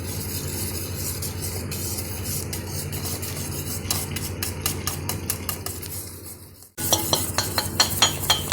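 A spoon stirring a rabri falooda milk mixture with cornflour and crushed papaya in a pot over low heat, scraping the metal in a rhythm that quickens over a low burner hum, close by.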